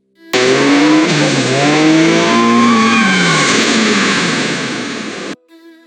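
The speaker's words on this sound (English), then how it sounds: "With a deafening rev of the engine and a bone-shaking jolt, the truck plowed straight through the blockade in front of them." A truck engine revs hard and accelerates, a loud, sustained roar with rising and shifting engine tones running nearly five seconds before cutting off abruptly.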